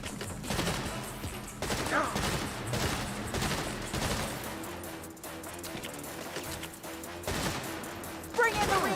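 Eli's gun in the game Saints Row fires in rapid bursts of gunshots, with dense volleys that crackle continuously and only briefly ease off.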